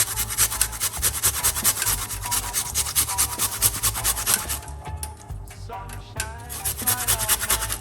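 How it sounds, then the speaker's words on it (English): Fresh ginger is rubbed against a grater in a steady, rapid rasping rhythm, close and continuous, easing off into softer, intermittent scrapes near the end. "grate a nice little piece of a ginger inside of it like this"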